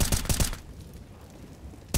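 AK rifle fire in Counter-Strike on the Overpass map, heard as a quick burst of three or four loud close shots, then a quiet gap and one more shot at the end.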